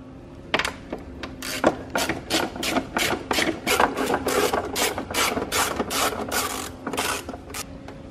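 A ratchet wrench loosening T20 bolts on a BMW air cowl during transmission removal, with a rapid series of close, crisp clicking pawl strokes in a steady rhythm, heard alone without talk.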